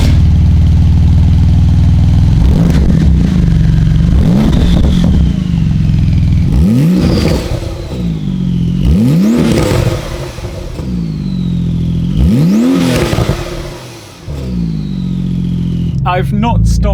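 Porsche 911 GT2 RS Weissach twin-turbo engine with the exhaust valve opened, revving hard in a series of four or five loud rising-and-falling bursts, each swelling then dropping back, with a voice speaking briefly underneath.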